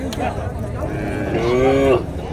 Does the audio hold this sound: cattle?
yes